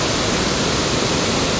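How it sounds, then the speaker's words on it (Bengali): Usri waterfall sends water crashing down in a strong fountain-like fall, making a dense, unbroken roar that fills the scene at close range with no voices over it. "কিন্তু একেবারে ফোয়ারার মতো করে জল পড়ছে ঝর্ণা থেকে।"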